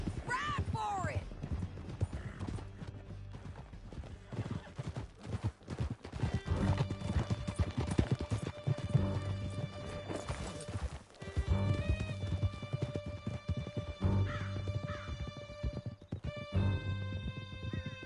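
Horses galloping in the video game Red Dead Redemption 2, rapid rhythmic hoofbeats running throughout, with neighs, crashes and music layered over them and voices speaking at times.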